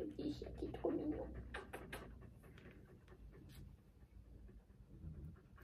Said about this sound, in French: c'est un petit chien qui aime les caresses. Qui aime les câlins.